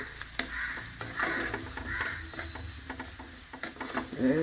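Chilli flakes tipped into a pan of well-browned sautéed onions with the heat switched off, giving a soft sizzle and scattered stirring scrapes and ticks, with a louder sputter near the end.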